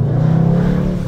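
A Mercedes-AMG in Sport Plus mode with a petrol particulate filter revs loud and close, a deep steady engine drone with a rising harmonic growl holding for about a second.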